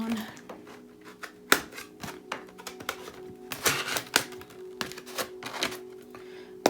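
Tarot cards being shuffled by hand: rapid, dry snaps and ticks in irregular bursts, close to the listener over a faint steady background hum.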